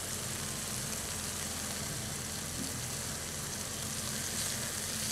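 Marinated chicken frying in a pan, a steady broadband sizzle and crackle running unbroken at even loudness throughout, with a low hum beneath and no voices.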